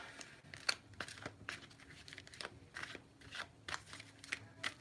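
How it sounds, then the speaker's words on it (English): A deck of tarot cards is shuffled close up: a string of crisp papery riffles and slaps, quiet and uneven, repeating every half second or so with no voices. "I heard you need to slow that shuffle down"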